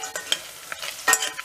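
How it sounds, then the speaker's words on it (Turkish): Meat for a Turkish forest kebab browns in a pan, with scattered sizzles and the clatter of stirring in short bursts, close and moderately loud, no voices. "Şimdi bunu kızarana kadar bir kavuralım."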